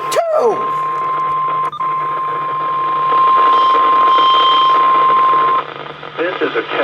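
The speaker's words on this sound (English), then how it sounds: "This is a test of the All Hazards NOAA Weather Radio Warning device" A NOAA Weather Radio receiver sounds a loud, steady single-pitch alert tone that holds for several seconds before cutting off, with brief broadcast voice and noise at either end.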